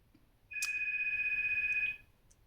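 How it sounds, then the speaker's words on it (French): A telephone ringing once, a single sustained electronic trill of about one and a half seconds, clear and fairly close, in an otherwise quiet room. "Il sonne une fois par mois ce téléphone"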